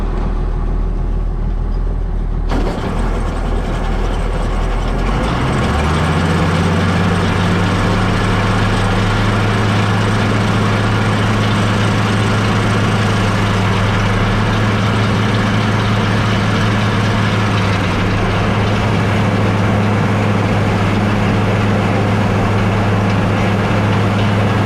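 An International 1086 tractor pulling a New Holland hay conditioner while cutting hay in first gear, its engine a loud, close, steady low drone that starts up and settles into a constant, heavy rumble.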